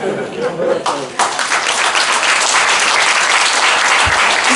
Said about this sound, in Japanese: 皆様今一度大きな拍手を